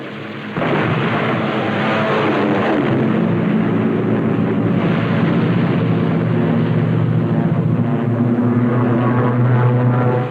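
Loud, continuous roar of a WWII fighter plane engine during a strafing run over enemy picket boats and supply ships, near and steady for the whole stretch, with no voices.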